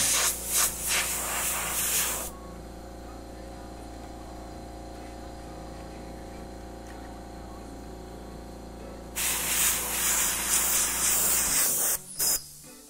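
An airbrush sprays paint onto the side of a Vans shoe in two loud bursts of hissing, separated by a long quieter stretch with only a faint compressor hum.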